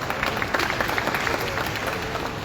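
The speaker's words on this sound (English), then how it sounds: "Let's give Christy a huge round of applause." Applause for boxing Hall of Famer Christy at a Mikaelian vs Makabu press conference, a dense, even wash of clapping from the room that holds steady throughout without any voices standing out.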